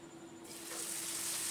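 Spice paste poured into hot oil with whole spices for a pointed gourd dish, bursting into a loud, steady sizzle that swells and stays bright and continuous close by.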